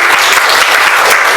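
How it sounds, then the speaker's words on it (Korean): A church congregation at a worship service breaks into loud, dense applause, a continuous close wash of many clapping hands with no voices rising above it. "우리 그 하나님의 이름을 박수로 찬양하십시다."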